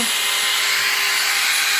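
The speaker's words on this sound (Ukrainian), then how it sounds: "Чуєте, плавні обороти набирає." A Stark AG 20000B brushless angle grinder runs up to speed with a steady, close, airy whine and a thin high tone. It holds evenly for about two seconds with no talking.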